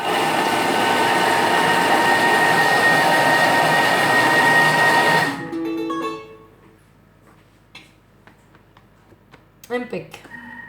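Kitchen mixer whipping express cake batter at speed 6, a loud, steady whirring drone for about five seconds that cuts off abruptly, followed by quieter clinks and handling sounds.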